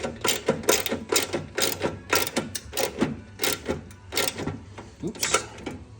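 A 12 mm wrench tightens a bolt while a Push Industries 270-degree chute rotation kit is installed, giving close, rapid bursts of mechanical clicking in a steady repeating rhythm.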